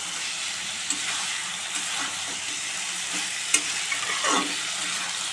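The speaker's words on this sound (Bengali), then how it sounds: "ভালো করে একটু কষিয়ে নিলে পটল আলুটাকে আর একটু খেতে ভালো লাগে।" Boiled pointed gourd and potato sauté in a pan with a steady, close, loud sizzle, broken by a few soft spatula scrapes and stirring knocks, with no voices.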